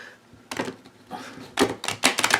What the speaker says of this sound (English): These cards are so darn stiff. I don't think I could shuffle them this other way.